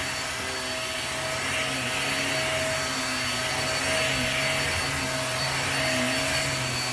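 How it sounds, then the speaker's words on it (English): A household vacuum cleaner runs steadily and loudly indoors through the house, holding a constant droning whine with no pauses and no voices. "clothes will absorb the sound of the vacuum."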